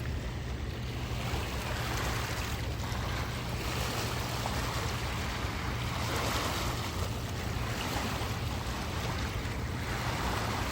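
Waves wash against the St. Clair River shoreline in a continuous, fairly loud surge, with wind-like rumble and no voices.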